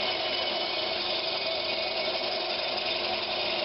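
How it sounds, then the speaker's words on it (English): Steady, continuous rasping of a hacksaw cutting through a spalted oak blank, a dense unbroken scraping noise heard close up with no pauses or talk. "Keep your hacksaw moving."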